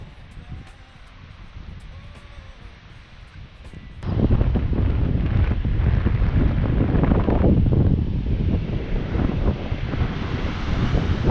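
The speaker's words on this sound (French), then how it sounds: "il y a du vent" Wind buffets the microphone in a steady low roar, growing much louder and rougher partway through and staying strong to the end.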